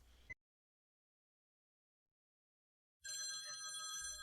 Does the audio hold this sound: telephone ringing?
yes